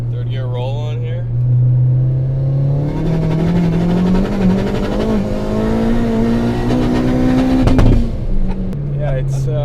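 A tuned 520 hp Mini Cooper JCW with a big turbo pulls hard through third gear, engine note rising steadily and loudly from inside the cabin for several seconds before backing off, with voices talking over it.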